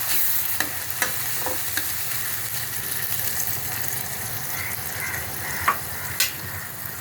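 Potatoes simmer in water with mustard and poppy-seed paste in a pan for a mourola fish posto, giving a steady close hiss of bubbling broken by a few soft clicks, with no one talking.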